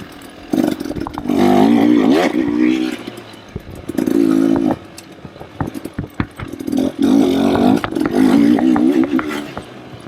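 A KTM or Beta off-road motorcycle engine being ridden over rough ground, loud revving bursts that rise and drop in several surges separated by quieter idling gaps.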